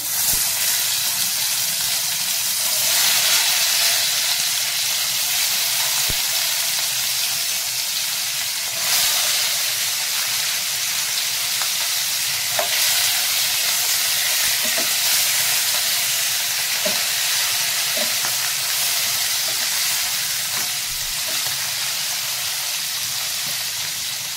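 Stuffed aubergines frying in hot oil in a pan, giving a steady, loud, continuous sizzle with a few faint ticks and pops, with no talking.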